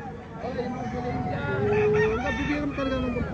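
A white-feathered, black-legged fighting stag crows close by, its drawn-out call rising over the background chatter of people nearby.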